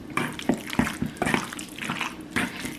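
Homemade cranberry sauce being stirred in a pot, giving soft, wet sloshing and scraping strokes that come in a loose, repeating rhythm, close and fairly quiet, with no talk.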